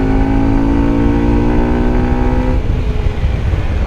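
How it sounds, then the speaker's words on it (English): Daytona Dymoto 125 motorcycle under throttle, a loud, close engine with a strong induction drone. Its steady tone holds and then drops off as the revs fall, with no voices heard. "it's that induction noise. It sounds kind of like old VTEC style cars"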